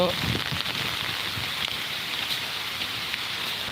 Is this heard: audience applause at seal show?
no